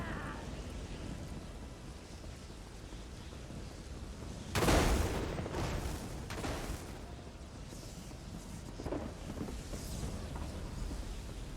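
Lightning crashes in The Elder Scrolls Online: a sharp, loud thunderclap bursts out midway over a constant stormy wash, followed by a weaker second crack a few seconds later.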